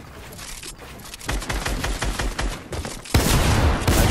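Rapid gunfire in a Fortnite-style battle royale game, with bursts of repeated shots that are quiet at first, then a dense loud volley, then a heavier sustained barrage at the end, all close and without talk.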